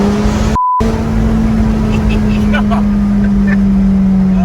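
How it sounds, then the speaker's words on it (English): A deep, steady exhaust drone from a McLaren 570S Spider's full titanium exhaust system rumbles close by, holding a sustained low tone with a slight rise, loud throughout. "this wonderful sound out of the titanium exhaust"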